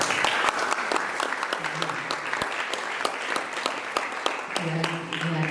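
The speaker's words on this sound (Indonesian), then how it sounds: "tepuk tangan untuk Pak." Audience applause at the closing of an arts training event for Islamic boarding school students, loud sustained clapping from a crowd with distinct sharp claps standing out and voices talking over it near the end.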